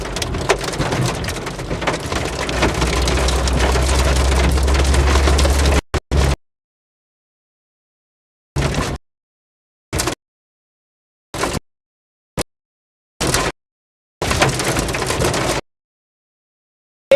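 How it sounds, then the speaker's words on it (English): Big hail pelts down during a strong storm chased across the Great Lakes region, a dense, loud drumming clatter on hard surfaces, heard in a continuous burst and then in short broken bursts. "Big hail, big"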